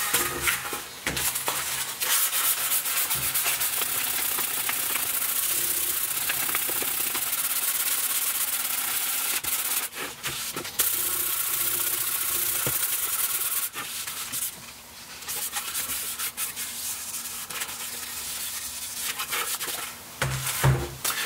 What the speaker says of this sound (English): Anyway, more sanding.